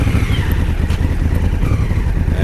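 A Honda Africa Twin DCT motorcycle sits on soft ground, its engine running in a loud, steady, close low rumble with no pauses.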